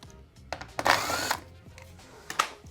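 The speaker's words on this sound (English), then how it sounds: "10mm tool to remove the bolts here and here. So I'm just going to do that now" Hand tool working trim bolts on a BMW M3 G80 bumper, giving short metallic clicks and rattles with one brief louder scraping burst, close up.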